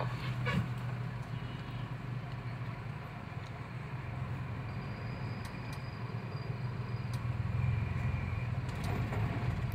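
A 2014 Datsun car's engine runs at a steady hum from inside the car, pulling in second gear with a slight rise in the drone toward the end.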